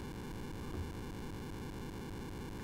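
An Elan Enterprise home computer's sound chip producing a distorted, irregular buzz through its polynomial counter, a steady rough engine-like drone that stays constant and fairly quiet throughout.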